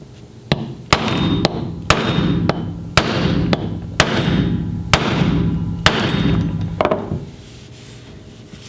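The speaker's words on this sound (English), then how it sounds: "grab your hammer, and give this a couple hits" A hammer strikes a metal crimping tool onto a battery cable connector about a dozen times in a steady, heavy rhythm, each blow sharp and ringing, close by, then stops.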